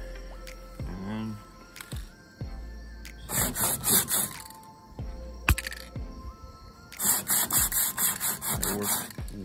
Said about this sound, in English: Take a can and your sandpaper, roll the sandpaper around the can